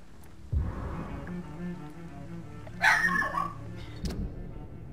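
Dog in the video game Vampyr barking a few times: a sharp yip in the middle and a shorter bark later, over low ambient game music with a soft thud at the start.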